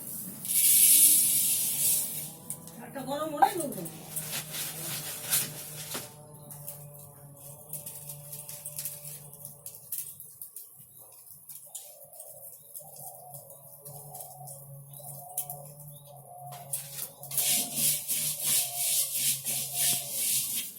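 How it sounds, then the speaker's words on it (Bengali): Dry rice grains stirred in a pan over high heat for home-made puffed rice, a steady gritty scraping and rustling that carries through the clip, closer and rougher at the start and end. "চালগুলোকে সামান্য একটু গরম করার জন্য এভাবে নেড়ে চেড়ে নেওয়া"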